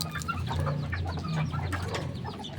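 Hungry pet chickens and turkeys cluck and call close by in a continuous noisy chorus, with several birds overlapping throughout.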